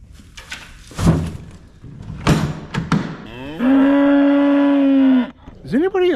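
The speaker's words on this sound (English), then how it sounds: "Does anybody else have a cow or a steer or any cattle related animal that just yells at me like this one does?" A cow or steer on a snowy winter farm bellows loudly and close by, a long sustained moo followed by a shorter rising call, with knocks and thumps around it.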